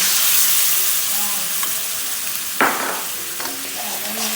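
Panaeng curry with coconut cream being stir-fried in a pan: a steady loud sizzle and hiss throughout, with a sharp scrape of the utensil partway through and lighter stirring clatter afterward.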